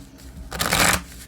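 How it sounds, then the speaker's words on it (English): Crystal reading cards shuffled by hand, a single brief riffling burst of paper flutter following a quiet pause, close up and with no voice over it. "I will shuffle and cut"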